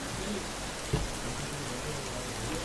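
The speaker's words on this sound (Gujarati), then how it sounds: "અમદાવાદના વિવિધ વિસ્તારમાં વરસાદ" Continuous rainfall hisses evenly throughout in Ahmedabad, India, with a single faint tap partway through and no voices.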